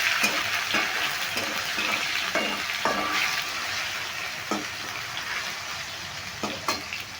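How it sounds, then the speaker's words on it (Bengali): Small seedless pieces of chopped tomato fry in a pan with a steady soft sizzle, broken by repeated scraping clinks of a spatula stirring at irregular intervals. "টমেটোটা আমি একটু নেড়ে ভেজে নিলাম"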